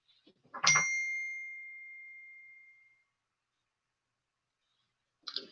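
A phone message notification chimes once, a bright bell-like ding with a clear sustained tone ringing out for about two seconds before fading, followed by silence and a faint click near the end.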